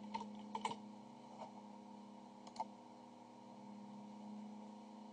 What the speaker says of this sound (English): Just make sure I don't make any typos typing with one hand.